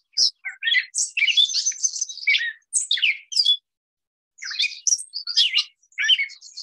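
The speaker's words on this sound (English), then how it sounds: "I'm going to play a typical catbird call" Gray catbird calling alone, a run of varied chirps, mews and squeaky phrases in quick bursts with a short pause midway, clear and fairly close.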